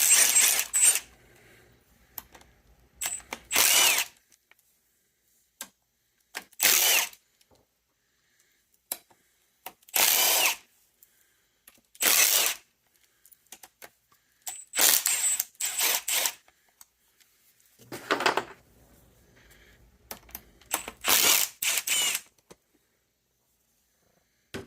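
A ratchet working the seven inspection cover bolts off an Autosports Engineering front mount shifter, repeated bursts of close, rapid mechanical clicking separated by short pauses, with small metallic taps between.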